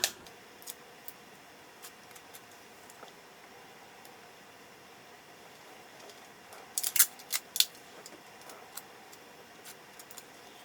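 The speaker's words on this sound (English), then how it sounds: "let's put some tape on" Adhesive tape torn and pressed on during eye makeup with a ColourPop palette: a quiet, near room with faint scattered clicks, then a short cluster of sharp ripping bursts midway before it settles again.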